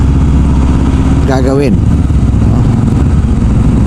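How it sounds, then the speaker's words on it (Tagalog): Motorcycles drone steadily along the road, a loud continuous engine rumble, with a brief voice cutting in partway through. "Dami ng mga motor na yan."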